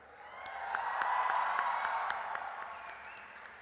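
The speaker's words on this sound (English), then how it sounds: "give a classic Mahindra University way of making noise and applauding your parents who are with you here" Students at Mahindra University's fourth annual convocation applaud their parents, a broad wash of clapping and crowd noise that swells, peaks mid-way, and slowly fades, heard from within a large hall.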